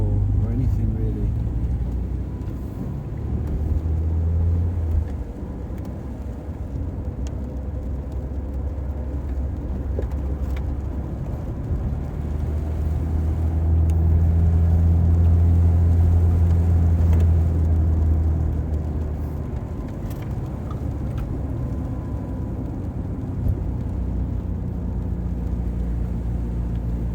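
A Saab 900i car driving and cornering on a road up Caerphilly Mountain, its engine rumbling low and steady throughout with a swell in drone midway, the whir of the cabin carrying continuously under occasional speech.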